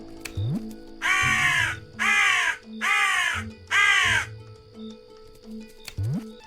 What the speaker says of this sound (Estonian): Kuule mõtlesin mul vares rõdu peal.